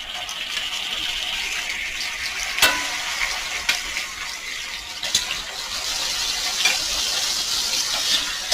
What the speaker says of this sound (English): So that's what I'm doing, is searing my lamb chops really, really good on each side.